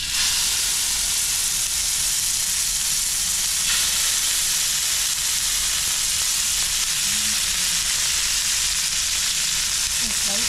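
Sankara fish frying in hot oil makes a loud, dense, continuous sizzle with a steady hiss throughout, close up and unbroken for the whole stretch.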